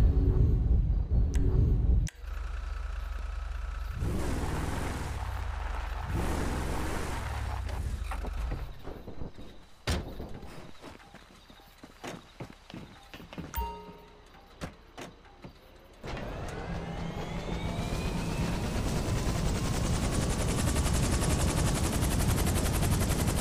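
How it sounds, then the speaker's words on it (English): A helicopter in GTA V, with loud rotor thumping and engine whine at the start and again, rising and steady, in the last seconds, alongside game mechanical clunks and rattles in between. "This is our chopper, I guess."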